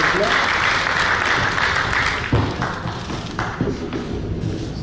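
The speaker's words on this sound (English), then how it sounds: "Let's applaud, let's give a applause" Audience at a Land for Life event applauding the panelists, full steady clapping that thins out toward the end, with a few thumps and taps mixed in.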